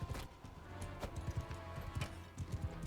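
Horses galloping in a Mount & Blade 2: Bannerlord battle, rhythmic hoof clip-clops in quick bursts amid faint combat noise, moderately quiet and mid-distance, no talking.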